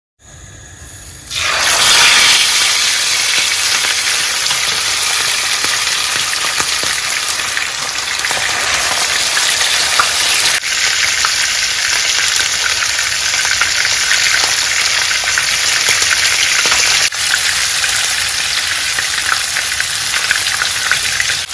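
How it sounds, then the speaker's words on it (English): Fish sizzles loudly while shallow frying in hot oil, a dense continuous crackle that starts abruptly and holds steady throughout. "as we are shallow frying our fish"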